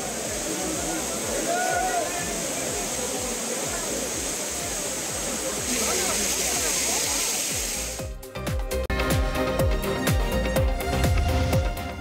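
Courtallam main falls, with many tourists bathing, pours in a loud continuous rush of crashing water, near and unbroken, with a brief shift in tone near the end.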